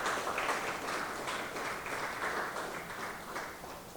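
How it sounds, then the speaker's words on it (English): Audience applauding teachers at an opening ceremony, a dense, continuous wash of clapping that fades slightly toward the end. "Please help me give a round of applause to our teachers."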